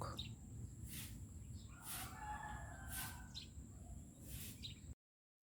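A rooster crows several times in a row with short pauses between calls, carrying clearly over a low background hum outdoors around a mango tree being trimmed.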